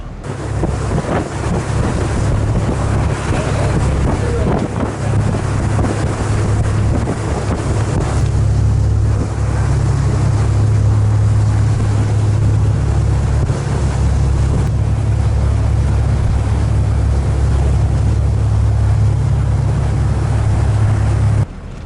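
A boat motors across open sea near Russell Island in the Bay of Islands, its steady engine drone mixed with wind buffeting the microphone and water rushing past the hull, continuous and loud throughout with no talking.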